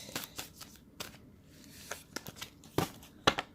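Tarot cards shuffled by hand, a soft papery riffle with several sharp slaps as the deck snaps together, the loudest near the end, over a quiet background with no talking.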